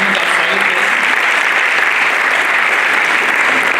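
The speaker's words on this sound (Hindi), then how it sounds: "एक बार जोरदार तालियों के साथ हमारे अतिथियों का स्वागत करें" Steady, dense applause from a large audience greeting guests at a national drama festival, loud and continuous with no break, sounding close and filling the hall.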